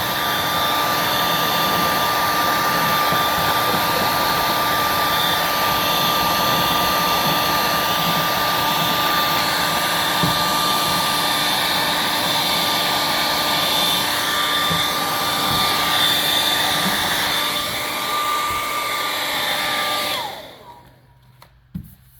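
A heat gun blows hot air onto a printed vinyl decal, a loud, steady whooshing drone that holds for about twenty seconds before cutting off abruptly, with no talking.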